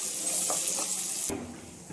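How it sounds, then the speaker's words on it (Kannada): Onion and curry leaves fry in a pan for a badnekai green masala and cauliflower gravy, giving a steady close hiss of sizzling oil that cuts off sharply partway through, leaving a quieter background. "ಈರುಳ್ಳಿ ಬೇಯೋವರೆಗೂ ಚೆನ್ನಾಗಿ ಫ್ರೈ ಮಾಡ್ಕೊಳ್ಳೋಣ"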